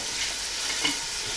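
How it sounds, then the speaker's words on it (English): Lamb sizzles steadily in hot oil, a soft continuous crackle with a faint scrape of stirring partway through. "And it makes that nice low sizzle."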